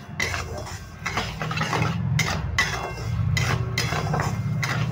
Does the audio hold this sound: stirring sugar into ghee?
yes